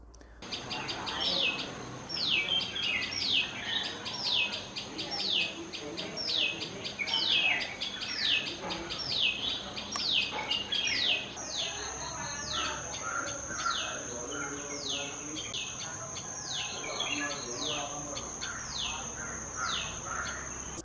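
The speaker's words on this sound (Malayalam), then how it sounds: "പക്ഷിയുടെ ശബ്ദം പിറ്റ് പിറ്റ് പിറ്റ് എന്നോ മറ്റോ ആണ്" A common tailorbird (Orthotomus sutorius) calling repeatedly in rapid, sharp, high 'pit' notes in a steady run, loud and near, with softer background birdsong and insect buzz.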